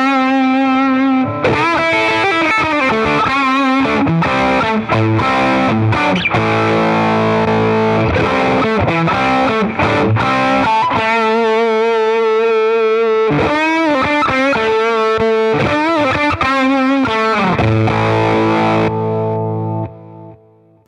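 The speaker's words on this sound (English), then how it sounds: "You can get that kind of saggy fuzz thing going on if you crank the gain a little bit and up the compression." An electric guitar played through a Cornerstone NERO fuzz pedal with the gain raised and compression turned up. It gives a saggy, compressed fuzz tone: loud riffing chords and single notes carry on for about twenty seconds with short pauses and no voices.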